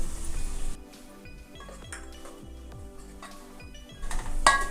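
A spoon stirs turmeric into a pot of moong dal dalcha with mint, curry leaves and coriander, giving light, scattered clinks and scrapes over a low background hum, with a sharper clink near the end.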